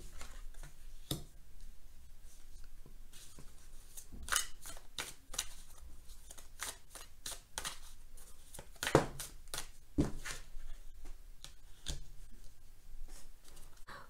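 Oracle cards being shuffled and drawn at close range, a quiet series of sharp card snaps and soft sliding flicks at an uneven pace, no talking.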